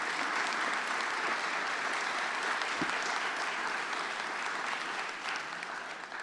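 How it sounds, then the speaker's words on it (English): Steady, full applause fills the hall for Reverend Nick Hood at a building dedication ceremony, a dense wash of clapping from a large audience that holds throughout and tapers slightly at the end. "And I want you to give him a round of applause."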